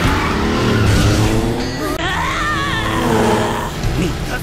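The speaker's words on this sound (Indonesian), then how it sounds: "Sehingga Tosuke kini naik di motor Furukawa dan pertandingan mereka pun dimulai." Motorcycle race engines roar loudly and continuously, with a rising whine of revving and tire noise near the midpoint, no voices over the steady mechanical din.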